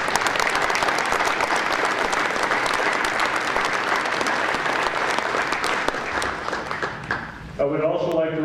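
Sustained audience applause fills a Veterans Day gathering in Minnesota, dense clapping from many hands that continues evenly before fading, with a voice starting to speak at the end.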